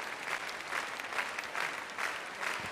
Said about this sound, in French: Carl Ester extrêmement applaudi par le public.